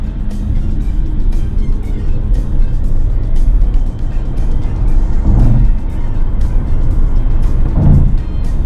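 A 2024 Hyundai Kona Electric pulls away hard from low speed, a steady low road and tyre rumble with wind noise building, close and loud, with no talk.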